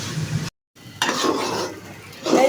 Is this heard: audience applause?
no